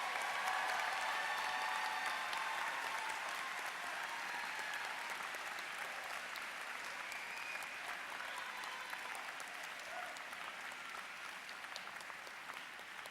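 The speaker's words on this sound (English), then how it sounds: "Another round of applause for the graduating class." Sustained applause from a large audience at a 2013 university social work commencement ceremony, dense and steady throughout and slowly tapering toward the end, with no voices standing out.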